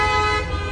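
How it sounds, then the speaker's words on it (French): A car horn honks steadily at a driver stopping to parallel park on a noisy city street, the sustained toot loud and close over a low rumble of traffic. "Il y a quelqu'un qui fait un créneau, il se fait klaxonner parce qu'il s'arrête."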